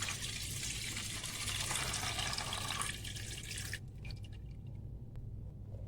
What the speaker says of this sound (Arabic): من بعد راح نصفي لها الفائض تاع الماء.